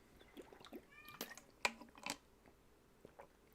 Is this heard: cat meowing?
yes